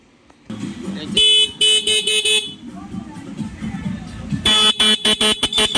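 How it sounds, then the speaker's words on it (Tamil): Repeated loud car horn blasts in short rhythmic bursts, with a pause between two groups and a low engine idling underneath. "இந்த வண்டியில் ரெடி பண்ணிவிட்டு ஹார்ன் அடித்து காமிக்கிறேன் பாருங்கள்"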